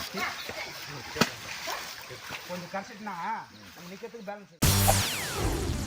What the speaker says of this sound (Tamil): ரொம்ப தண்ணி வருது